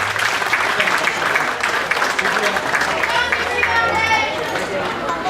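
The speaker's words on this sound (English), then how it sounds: "Give my new friends here a round of applause." A crowd applauds a band at an outdoor community festival, steady dense clapping held at an even level throughout, with voices chattering underneath and a faint low tone running along the bottom.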